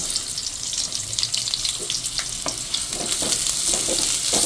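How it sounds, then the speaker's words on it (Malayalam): Onions frying in hot coconut oil, with a continuous close sizzle and crackle that grows slightly louder toward the end. "അപ്പോൾ എണ്ണ ചൂടായിട്ടുണ്ട്. നമുക്കിതിലേക്ക് സവാള ഇട്ട് കൊടുക്കാം കേട്ടോ."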